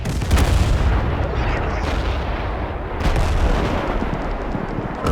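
Artillery bombardment in the war video game Total Conflict: Resistance, a dense, continuous barrage of booming blasts and gunfire rumbling loudly throughout with no pause.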